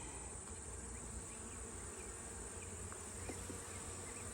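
Honeybees drone in a small hive being opened for inspection, a dense, even buzz that fills the whole stretch at low to moderate level, with a few individual bees flying past close by.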